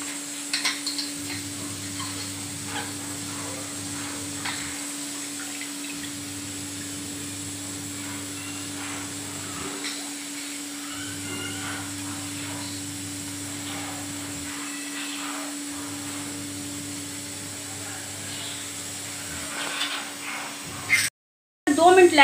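Chicken sizzles in hot mustard oil in a pan on a stove, a steady close hiss broken by occasional clinks of utensils and stirring against the pan.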